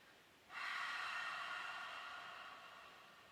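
A single long, forceful exhale through the nose during a kundalini breathing exercise starts abruptly, then fades gradually as an airy rush, close and alone.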